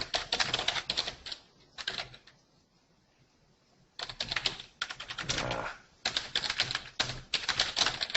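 Rapid typing on a computer keyboard, clattering in dense bursts with a quiet pause in the middle, close and fairly loud with no talking.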